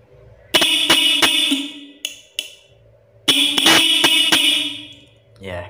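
A cheap aftermarket car horn blares its high tone in a series of short loud honks, several quick blasts, a pause, then another cluster, sounding close and harsh.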